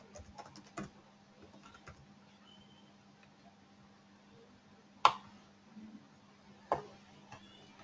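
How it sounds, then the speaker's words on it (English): Keys tap on a computer keyboard in a quiet room, a few sparse, faint clicks with a couple of sharper keystrokes spread over several seconds and no voices. "Let me type here."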